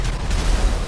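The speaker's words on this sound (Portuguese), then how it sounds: "Ainda tá destruindo com um míssil." A missile fired from an Oppressor Mk2 in the GTA video game explodes in a sustained, dense low boom that rumbles steadily for about a second with no voices over it.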